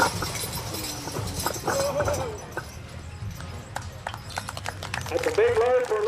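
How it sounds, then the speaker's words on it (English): A small team of horses straining at a pull event at a county 4-H fair, hooves clopping and scraping on the ground while a horse whinnies and handlers shout over the crowd. "That's a big load for a little team of horses."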